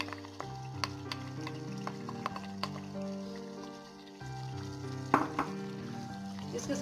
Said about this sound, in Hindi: इसके साथ इसके मसाले को जरा अच्छी तरह से इसको भूनेंगे